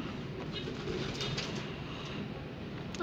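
Racing pigeons coo softly amid a steady wash of background noise and rumble, with no voices present.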